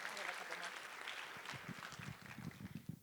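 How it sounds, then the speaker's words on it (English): An audience at an International Women's Day event applauds a volunteer organizer, giving a moderate burst of clapping heard from a distance that fades as a voice begins speaking over it. "Please give her a round of applause."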